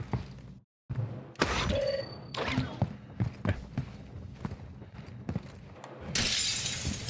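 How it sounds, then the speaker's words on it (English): Glass window shattering in the Call of Duty Black Ops 6 video game, a loud crash set against busy in-game footsteps and background noise, with a bright burst of debris near the end. "I just broke that glass"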